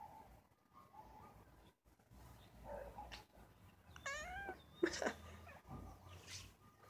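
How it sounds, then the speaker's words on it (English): A pet cat meows indoors, with a few rising and falling calls in the middle of the stretch over quiet room noise and soft handling sounds. "This is my kitty."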